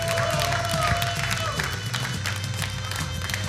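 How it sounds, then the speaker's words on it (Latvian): Audience applause fills a TV karaoke championship studio, a steady dense wash of clapping and crowd noise running throughout, with a brief sustained tone fading early on. "Aplausus vēlreiz."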